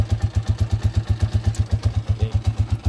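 A freshly overhauled Honda TMX155 motorcycle engine idles nearby with a steady, rhythmic thumping pulse, about ten beats per second, with light mechanical clatter over it.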